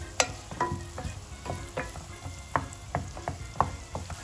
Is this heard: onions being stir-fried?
yes